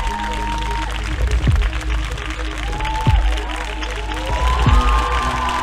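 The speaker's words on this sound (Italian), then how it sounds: "Ed è con questo applauso" A stage audience claps continuously while music plays, with low thumping hits and a few sliding tones over the crowd, loud and busy.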